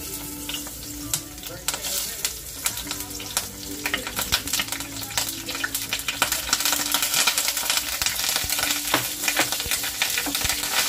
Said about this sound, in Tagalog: Okay guys, gigisa na natin yung luya.